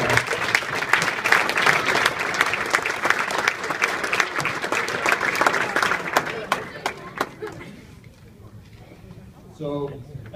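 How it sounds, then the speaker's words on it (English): A crowd at a boys' travel basketball banquet bursts into dense clapping that fades out after several seconds, followed by a quieter room and a brief voice near the end. "a round of applause."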